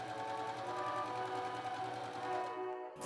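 A sewing machine runs steadily for about three seconds, stitching French side seams on a pleated plaid skirt made to a 1918 pattern, with a close even whir that stops abruptly at the end.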